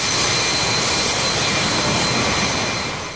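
Molten iron bursting from the base of a blast furnace as a giant drill taps it at a large Russian steelworks in Magnitogorsk, a loud, steady roaring rush that holds for the whole stretch with no voices.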